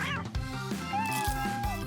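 A cat meows in the video game Avatar World, bright synthetic meows over steady background music, no speech.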